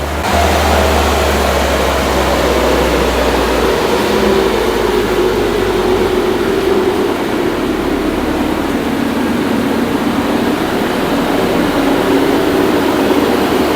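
An Alfa Romeo MiTo engine runs under load on a dyno as a loud, constant roar with a low drone, holding steady for about fourteen seconds with no talk.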